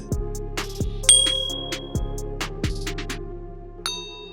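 A bright bell-like ding rings repeatedly in a regular rhythm, clear and close with a tonal ring-out, alone without talk.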